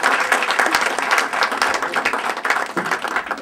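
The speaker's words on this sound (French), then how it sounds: "M. Noël Akossi Benjo, sous vos acclamations, s'il vous plaît." Audience applause breaks out after a mayor introduces a guest at a French-language civic speech event, a dense, steady clapping that carries on loudly for the whole span.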